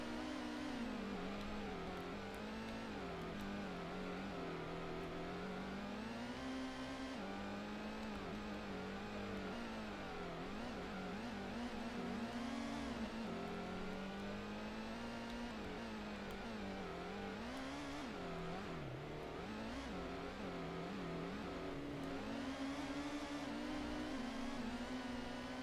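Engine of a powerful race car in the video game Gran Turismo, droning continuously close up, its pitch rising and falling as it accelerates and shifts gears through the race, with no talking.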